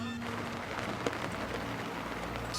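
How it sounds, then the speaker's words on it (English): Light rain patters steadily on surfaces on a cold, rainy morning, a faint, even hiss with a brief tap near the middle and no speech. "it's cold and rainy today."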